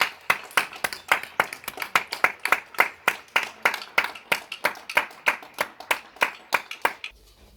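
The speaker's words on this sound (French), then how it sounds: "qui tient à participer avec ses voisins aux applaudissements nationaux pour le personnel soignant" Neighbours clap from their homes at 8 pm for healthcare workers, a steady run of sharp, fairly close hand claps at a brisk regular rhythm, carrying on alone for several seconds before stopping.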